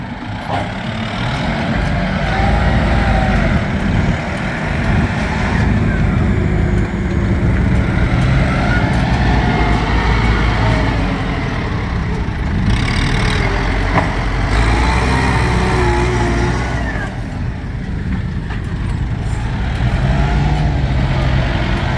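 Six-wheel trucks roll past, their loud engines rumbling steadily and close at hand, with brief air-brake hisses mixed into the continuous traffic noise.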